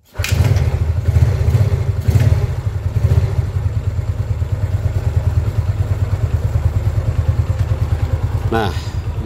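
Yamaha Mio scooter engine idling after its carburetor was refitted: a close, loud, steady putter from start to end, with a brief clatter near the end and a voice talking over it.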